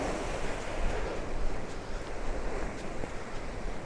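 Waves on a beach at Covehithe on the Suffolk coast, a steady broad wash of surf mixed with wind buffeting the microphone, continuous and fairly loud, with no voices.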